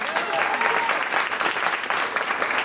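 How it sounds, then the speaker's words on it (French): An audience at a student talent show applauds a performer after an illusion act, dense sustained clapping filling the room, loud and steady throughout. "on peut l'applaudir encore une fois, Arnaud"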